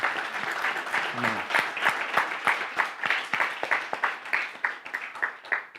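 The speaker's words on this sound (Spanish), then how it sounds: "¿Quién le da un fuerte aplauso al Señor?" A church congregation applauds during a Spanish-language worship service, sustained crowd clapping at moderate level. A voice says a brief word near the start.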